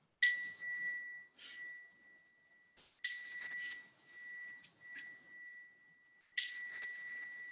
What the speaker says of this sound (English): Sometimes it's nice to hear this little chime,